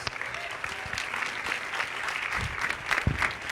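An audience in a church claps at length, with many overlapping hands in a sustained burst of applause that swells near the end.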